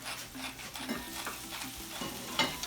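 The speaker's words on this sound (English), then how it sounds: "Do you want to stir the carrots?" Carrots sizzle in a preheated pan while a utensil stirs them, giving a steady close frying hiss broken by scraping strokes and a few sharper clinks toward the end, with no talking.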